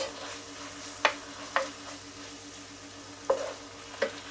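Minced meat pan heating on the stove gives a steady close sizzle throughout, broken by four sharp scraping stirs at irregular intervals.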